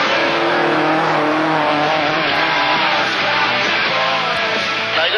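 Ford Escort Mk1 RS1600 rally car sliding sideways, a loud, continuous, hard-revving engine roar with a steady rasp, close by and with no talk.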